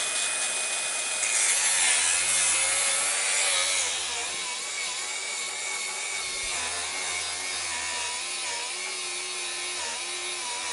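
Power tool cutting through the underside of a wide-arch wheel arch fitted to an Alfa Romeo Giulietta, a loud continuous high-pitched grinding whine that stays steady throughout at close range.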